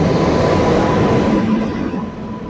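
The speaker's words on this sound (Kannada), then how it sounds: "ಇವಾಗ ತಾಳಗುಪ್ಪ ಬೆಂಗಳೂರು ಎಕ್ಸ್ಪ್ರೆಸ್ ಬಂದಿದೆ" Talaguppa–Bangalore Intercity Express arriving at a railway station, a loud, close rumble of rolling carriages that eases off toward the end, with no talk.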